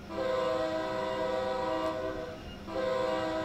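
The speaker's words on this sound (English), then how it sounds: "Horn." A train horn sounds from a locomotive in Train Sim World 3 on the Northeast Corridor between New York and Trenton, a loud sustained chord held for several seconds with a short dip in the middle before resuming.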